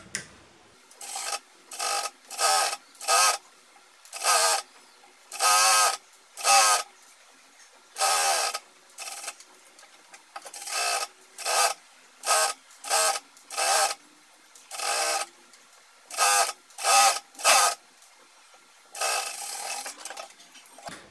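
A sewing machine stitches the inner-leg seam of a pajama in repeated short bursts of fast whirring, each run separated by brief pauses as the fabric is adjusted.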